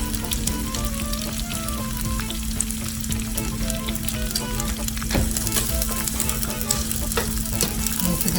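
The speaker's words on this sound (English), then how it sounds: "So we're gonna let the onions" Onions sweat in a hot pan with a steady, close sizzle and faint bubbling crackle that holds through the whole stretch, broken only by an occasional utensil tap. No one speaks.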